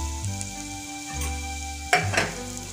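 Boiled potatoes dropped into frying chicken masala for chicken chop, a continuous sizzle under a faint steady hum, with a sharp burst of spattering and clatter near the end as they hit the pan.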